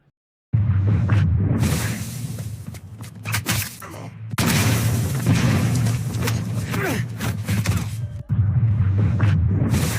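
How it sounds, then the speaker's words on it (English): Continuous rumbling explosions and booms with whooshing bursts, loud and dense, broken by two brief cuts to silence. "The camera zooms in, explosions are still going off, sparks flying everywhere"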